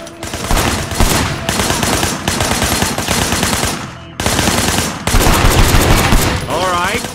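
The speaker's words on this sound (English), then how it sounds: "I want you to put some bullets in a few things." Sustained automatic gunfire in the Sleeping Dogs video game, loud dense bursts of rapid shots firing almost continuously, with a brief gap midway and some background game sounds.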